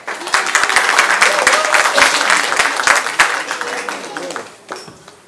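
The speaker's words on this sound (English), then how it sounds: "please give them a loud applause" Audience applause for children at a junior public speaking event: a dense burst of many hands clapping, loud and steady, thinning toward the end, with a bit of crowd murmur beneath.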